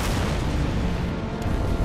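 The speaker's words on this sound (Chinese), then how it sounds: "钢厂那边发生爆炸了" An explosion at a steel plant in a TV drama comes as a loud, continuous booming roar that fills the whole short moment.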